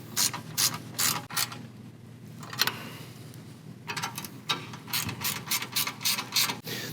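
A hand ratchet clicks in quick bursts while tightening bolts on an Ironman 4x4 Raid front bumper being installed on a RAM 1500 DT, the rapid metallic pawl ticks close and loud with short pauses between strokes.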